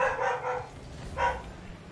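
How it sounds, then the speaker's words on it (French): A dog in the room giving a few quick barks, three rapid yaps and then one more after a pause, moderately loud against low background noise. "Le chien de Luffy qui se met en commentaire sur la vidéo."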